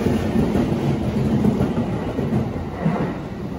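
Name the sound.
Shinkansen bullet train at a station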